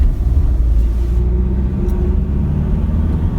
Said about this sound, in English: The engine sounds smooth